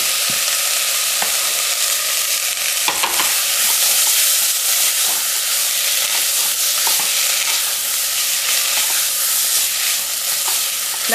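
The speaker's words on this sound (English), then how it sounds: "we're going to go ahead and add our potatoes in" Curried potatoes with turmeric frying in a pan, a steady loud sizzle with occasional stirring scrapes throughout.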